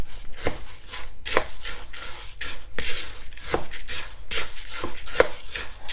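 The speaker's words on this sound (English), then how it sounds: "dump in our dried seasonings and then just give this a good mix" Cauliflower being tossed with dried seasonings in a bowl, a series of irregular scraping and knocking strokes close by, with short sharp clacks against the bowl.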